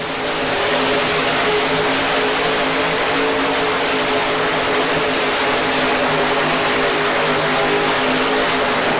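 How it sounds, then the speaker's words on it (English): A Chevy pickup in a 1980s indoor truck pull roars steadily as it leaves the line dragging the sled, a loud, sustained engine drone with no break for the whole stretch. "Ed Hilton with the Chevy Pano leaving the line."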